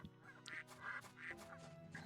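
Ducks in the video game Baten Kaitos quack in a few short, bright calls over a steady bed of game music, moderately loud and with no voices.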